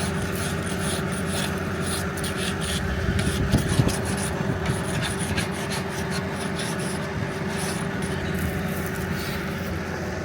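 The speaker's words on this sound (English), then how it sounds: "hopefully they'll clean themselves off eventually if I keep scraping the dirt off" A hand scraper rasps dirt off the rusty blade of a tractor implement in a field, a continuous gritty scraping close by with a steady mechanical hum underneath and no talk.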